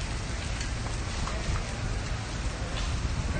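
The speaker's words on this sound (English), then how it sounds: "We are getting hail at a car show." Hail pelts down at an outdoor Father's Day car show in Texas, a dense, even hiss of pellets striking surfaces nearby, steady and unbroken with no voices.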